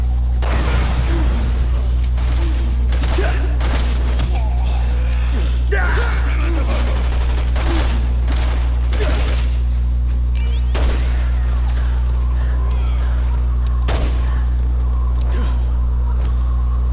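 Gunfire in the video game Resident Evil 6 cracks out as a series of sharp, irregular shots and booms over a constant low hum, with a player's voice talking between and over the shots.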